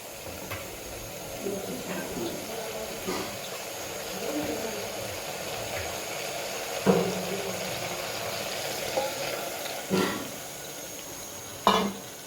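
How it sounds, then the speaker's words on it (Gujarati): A little water goes into a simmering vegetable curry with spices and garlic chutney in a home kitchen. A faint hiss and sizzle runs throughout, broken by a few sharp clinks and knocks of utensils against the pot. "હવે આપણે એમાં થોડું પાણી એડ કરી દઈએ."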